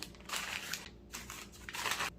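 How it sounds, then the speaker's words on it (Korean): Potatoes are packed into a zip bag or plastic bag, producing soft crinkling and rustling of plastic in a few quiet bursts at close range, with no speech. "지퍼백이나 비닐봉지에 이렇게 넣어갖고 보관을 하시면 됩니다"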